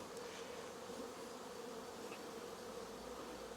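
A swarm of honeybees buzzes during a hive inspection, a dense, continuous hum of many wings that stays faint and even throughout, with no voices.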